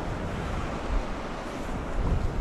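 Surf breaks near a jetty in strong wind, a constant roar of waves with heavy gusting wind buffeting the microphone and no voices.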